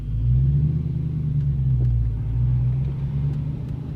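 A Mustang with new suspension accelerates with a deep, steady engine rumble that swells and eases slightly while it pulls, loud and close, with no talk.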